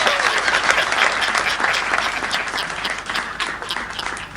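Steady, dense applause from a large audience at a Hindi comedy poetry gathering (hasya kavi sammelan), loud and sustained throughout with no voices over it.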